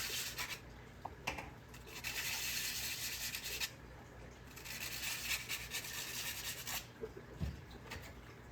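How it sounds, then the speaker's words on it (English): Edges of a handmade plant basket being sanded by hand, heard as quiet rasping strokes in bursts with short pauses between them, close by and faint, with no talking. "Sand edges to taste."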